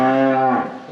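A cow on a farm gives one loud, close moo, a sustained low tonal call that drops off sharply after about half a second.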